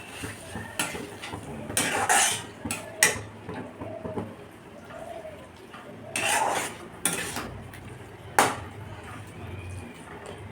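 Spice paste is stirred into pointed gourd in a pan, with bursts of metallic scraping and clinking against the pan between quieter stretches. Someone coughs, and a voice talks at times in the background.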